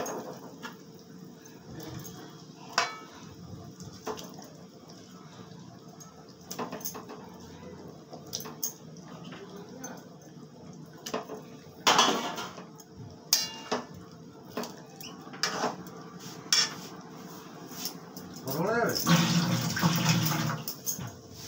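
Chitol fish kalia curry bubbles in a pot as pieces of chitol fish are set in one by one, with soft clunks and wet plops over a quiet simmer, ending in a louder splashy burst.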